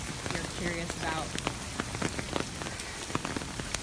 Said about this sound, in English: the rain that's happening now